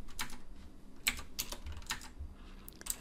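Typing on a computer keyboard while writing app code, a sparse run of clicky keystrokes up close over faint background noise.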